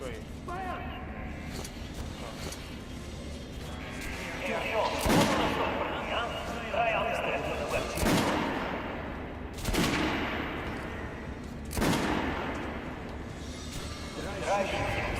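Gunshots fired at training dummies in the video game Metro Last Light: four sharp, loud single shots spaced a second or two apart over a steady background hum, with voices heard in between.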